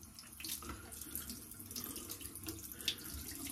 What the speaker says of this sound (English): Let me rinse it real quick.